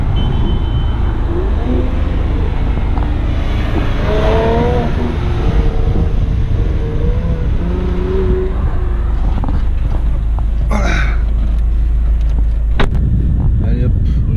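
A Mercedes car with an AMG exhaust pulls away for a drive, its engine loud and close, rising through gears in a steady rumble under continuous talk.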